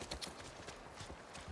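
In The Last of Us Part I, a ridden horse's hooves strike in a quick, even clip-clop, faint but near and heard alone.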